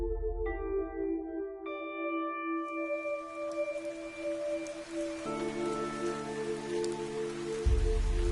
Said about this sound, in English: It was raining. In fact, it had rained without end since the light of God disappeared.